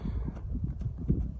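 A purebred Kyrgyz horse moves with a rapid, irregular clip-clop of hooves, close and moderately loud, with no talking.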